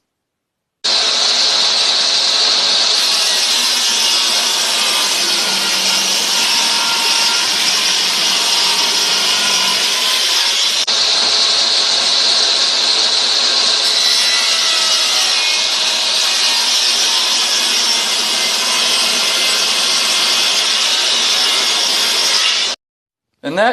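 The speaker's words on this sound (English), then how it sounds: "And then I'm going to trim off even more using that same table saw." A table saw trims wood for a fiddle build, a loud steady whining cut that runs continuously for over twenty seconds, starting and stopping abruptly, with faint muffled talk underneath.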